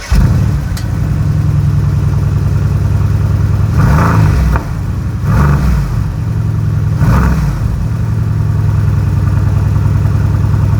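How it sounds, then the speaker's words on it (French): Mercedes-AMG GT R V8 engine held on the brake, idling loudly then revving up in three sharp bursts before settling back to a steady rumble, close and alone without talk. "on va faire écouter le magnifique bruit de ce V8"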